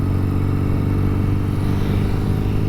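An older motorcycle engine drones steadily and loudly the whole time, close by, with a low rumbling tone and no break in the sound.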